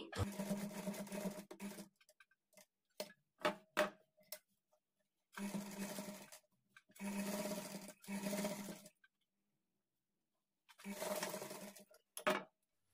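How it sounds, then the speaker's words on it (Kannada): Sewing machine stitching a child's lehenga top near a cord, running in several separate bursts of steady whirring with short pauses between them. "ಈ ಡೋರಿ ಹತ್ರ ಒಂಚೂರು ರಫ್ ಹೊಡೆದು ಸ್ಟಿಚ್ ಮಾಡ್ಕೊಳ್ಳಿ"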